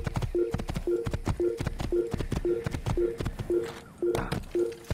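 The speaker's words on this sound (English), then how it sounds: "I'm on a horse." A horse gallops in an Assassin's Creed video game, with quick, even clip-clop hoofbeats repeating close and clear, each with a tonal ring, and a brief swell of other noise near the end.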